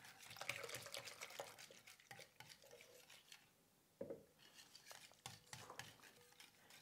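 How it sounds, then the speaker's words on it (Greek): Spoon or whisk stirring cheese pie batter with milk and sparkling water in a bowl, a steady run of close, busy scraping and clinking strokes with a brief pause midway. "συνεχίζουμε το ανακάτεμα"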